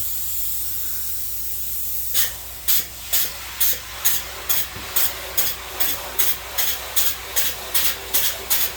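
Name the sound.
spray foam insulation being sprayed in a house renovation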